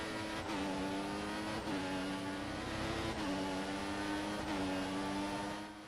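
Formula 1 cars racing in the F1 2014 game, with a high-pitched engine whine that rises steadily and drops at each gear shift, repeating about four times, loud and continuous with no talk.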